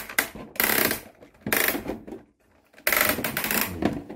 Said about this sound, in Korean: 그래서 돌려주실 때 라쳇 소리가 조금 크게 납니다.